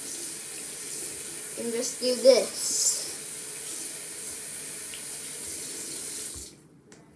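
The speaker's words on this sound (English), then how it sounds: "now to get all the excess off, I'm gonna turn the water on" Water runs steadily from a sink tap while a doll is rinsed, a soft continuous splashing hiss with a brief louder burst midway and a short spoken aside, then the flow stops near the end.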